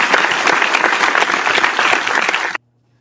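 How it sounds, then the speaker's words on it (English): A small group claps and cheers in a short, dense round of applause, loud and close, that stops abruptly after about two and a half seconds, leaving near silence. "A little round of applause for us."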